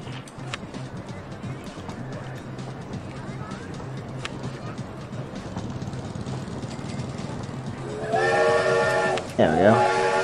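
A train ride in the theme park video game OpenRCT2, with a steady rumbling background that gives way near the end to a loud, bright steam-style whistle blast.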